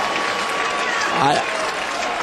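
A baseball crowd cheers and applauds in a roar as the third base coach eggs them on, while a commentator talks over the noise.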